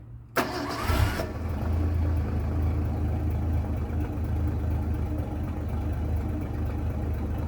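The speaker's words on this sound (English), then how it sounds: "And the exhaust note out the back" A cold 1981 Ford Mustang inline six cranks and fires, then settles into a steady, rough low idle, its exhaust note rumbling continuously and close by with no talking.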